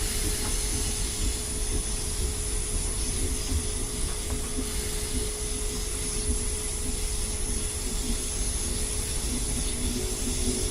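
Electric passenger train in Train Simulator 2019 on a Network Southeast route from London Bridge to London Victoria, slowing from speed: a steady loud rumble and hiss with a sustained tonal hum, continuous and without talk.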